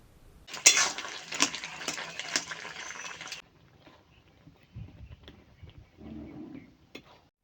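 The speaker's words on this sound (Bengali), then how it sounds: "কুলগুলো নাড়তে নাড়তে যখন দেখবেন অনেকটা আঠালো হয়ে আসছে এবং শুকনো শুকনো হয়ে আসছে" Jujube (kul) pickle being stirred in a pan, village style: a dense burst of scraping and clinking utensil noise for about three seconds, then quieter intermittent stirring and scraping, close and alone.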